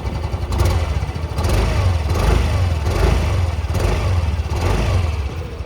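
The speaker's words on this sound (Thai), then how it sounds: "อ่าลองฟังเสียงท่อนะครับ" A 2019 Yamaha Grand Filano scooter engine revs repeatedly close by, its throaty exhaust rising and falling in a steady rhythm of throttle blips.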